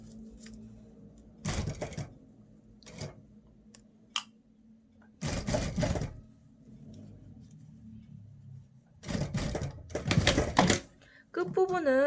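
A sewing machine stitches beside a zipper on shorts, running in several short loud bursts of rapid mechanical chatter separated by quieter gaps where a person talks.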